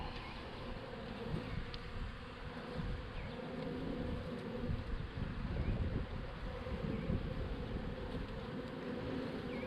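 Honey bees buzz continuously while being installed into a hive outdoors, a dense droning hum with some wind noise and no talking.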